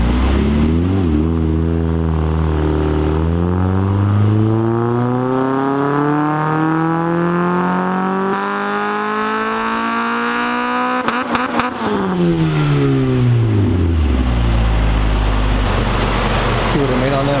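An Infiniti G20 with an SR20VE engine revs on a dyno run, its pitch climbing steadily toward high RPM, holding briefly, then dropping back as the engine winds down, loud and close.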